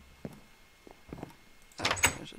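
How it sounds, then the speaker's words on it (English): A wooden door shutting in Minecraft, heard as a few soft knocks and then a louder double clunk near the end, with no speech. "Oh, there's a door. I'm gonna shut that."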